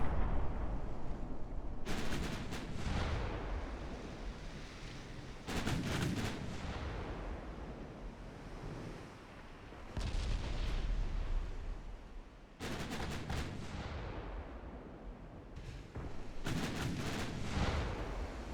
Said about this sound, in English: See if we can actually gun down this armored cruiser.